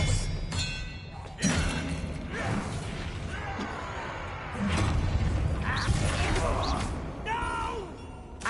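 A spell cast in a Hogwarts Legacy duel, with magical whooshes, crackling bursts and thuds layered over game music and spoken voices throughout.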